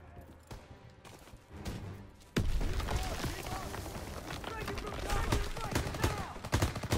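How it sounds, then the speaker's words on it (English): Bursts of rapid gunfire crackle and echo through a busy Call of Duty WWII battle scene, loud and continuous, with sharp shots punctuating the din. "Gunfire! We must be near our guys."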